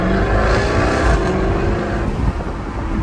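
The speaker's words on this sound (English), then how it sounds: "now we're in sport with the exhaust on loud" Jaguar F-Type R exhaust in sport mode with the loud exhaust setting on, a continuous deep, rough roar at close range holding steady for the whole stretch, easing slightly near the end.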